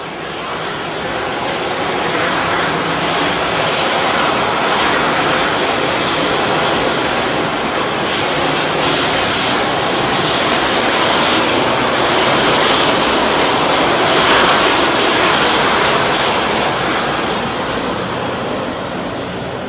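A DSPA 5 fire suppression unit activates in a maritime engine space, releasing a loud, steady broadband roaring hiss that continues for about twenty seconds without pause.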